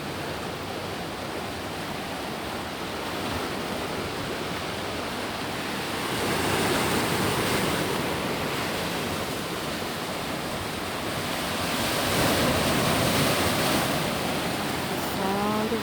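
Ocean waves wash onto a beach in a continuous broadband roar, swelling louder twice as surf breaks, with no voices over it.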